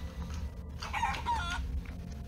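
A rooster crows in the video game Guacamelee 2, a single bright cock-a-doodle-doo rising over steady low game background noise, with no talk.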